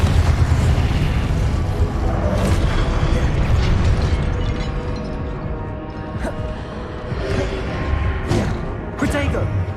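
Confringo fire-blast spell explosions in Hogwarts Legacy, a dense run of booming bursts and crackles over a constant loud roar of combat, with a voice talking throughout.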